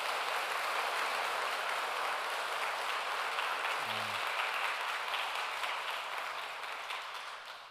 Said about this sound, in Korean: 이분들 위해서 우리 박수 한번 하시죠